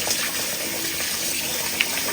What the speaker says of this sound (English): I'm gonna go ahead and wash my rice. Yo, you wanna wash your rice until the water is clear.